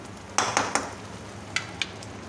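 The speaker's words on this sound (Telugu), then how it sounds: "ఈ మసాలాలు మంచిగా నూనెలో మగ్గనిచ్చుకోవాలి." Masala spices fry in oil in a pan for a Kolkata-style prawn curry while a spoon stirs and scrapes, several scraping knocks over a soft steady sizzle, close by.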